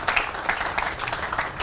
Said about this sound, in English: And I give him a round of applause.